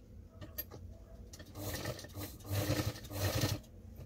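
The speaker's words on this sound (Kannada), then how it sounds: "ಮೇಲ್ಗಡೆ ಮಾತ್ರ ಕ್ಲೀನಾಗಿ ಮಡಚಿ ಹೊಲ್ಕೊತಾ ಇದ್ದೀನಿ ನಾನು" A sewing machine stitches the folded top edge of a langa davani dress in short bursts of whirring, growing louder and steadier toward the end before stopping.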